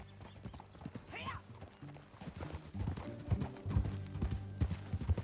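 Horse hooves clip-clop in Red Dead Redemption, irregular steady footfalls close by with creaking tack and faint mechanical clatter, no talk over them.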